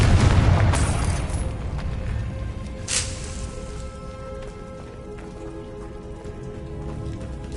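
The Confringo fire spell from the video game Hogwarts Legacy goes off with a heavy boom at the start and a sharper burst a few seconds later, followed by a crackling, rain-like patter that slowly fades.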